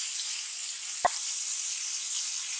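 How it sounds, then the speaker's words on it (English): Meat searing in about two tablespoons of oil in a pan for a ropa vieja, a steady faint sizzle and hiss with one brief tick, no talk. "what we're doing here is just getting a quick sear on it"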